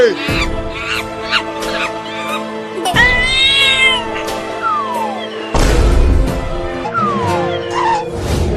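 A kitten gives repeated high, rising meows, loud and near, mixed with squeaky cartoon-like honks and chirps in a comedy sketch scene.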